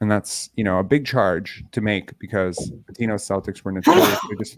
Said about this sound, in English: that's the first sneeze in our live history ever.